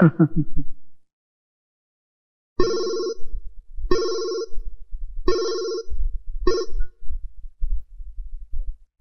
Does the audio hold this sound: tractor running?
no